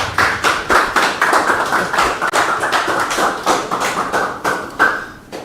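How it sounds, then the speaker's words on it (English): A round of applause from a small audience at a postgraduate research workshop, a few close, distinct hand claps ringing out in an uneven rhythm and fading near the end. "Please, let's give him a round of applause."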